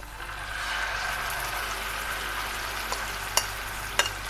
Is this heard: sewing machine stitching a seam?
no